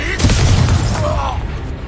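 A Confringo blasting spell going off in Hogwarts Legacy, a booming burst with crackling debris, heard mid-combat under game sound and voices.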